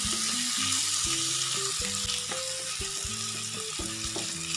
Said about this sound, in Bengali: এবার 5-10 মিনিটের মতো এভাবে নেড়ে চেড়ে ধনেপাতা দিয়ে দেবো।